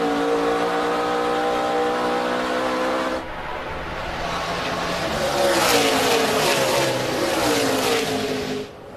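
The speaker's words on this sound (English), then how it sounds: "take a look at all those cars zipping down the backstretch" NASCAR Nationwide stock cars speed down the backstretch at Watkins Glen, a dense engine roar with sweeping pitch changes as the pack passes, loud and sustained with a sharp cutoff near the end.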